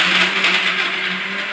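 A mixer grinder runs continuously on peanuts, giving a loud, steady, close-up whirring drone with a rough grinding texture throughout.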